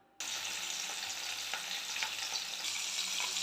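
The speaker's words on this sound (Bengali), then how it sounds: "মাছটা আমি এখন আগে ভেজে নিচ্ছি।" Pieces of rui fish frying in white oil, a sudden loud sizzle that starts right away and holds a bright, crackling hiss with scattered pops, close up and without any talk.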